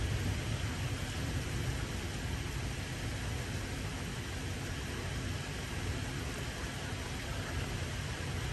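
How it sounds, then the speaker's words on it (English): Steady, dense downpour of heavy rain during a thunderstorm in Texas, with a constant wash of noise, no distinct thunder claps, no voices. "Just look at the rain coming down."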